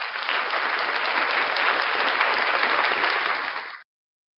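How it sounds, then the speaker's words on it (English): Studio audience applause for a guest, the Blackheart Knight, on a breakfast talk show: dense, loud, sustained clapping with no voices, cutting off abruptly near the end. "round of applause for the one and only Blackheart Knight."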